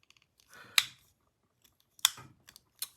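The stiff lock bar of a folding knife gives a few sharp, close clicks, spaced about a second apart, with faint handling noise between them in an otherwise quiet room.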